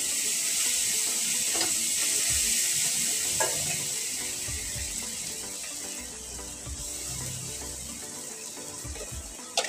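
Cumin, garam masala and turmeric sizzle steadily in a hot pan, a constant bright frying hiss with a few soft stirring scrapes, close and alone.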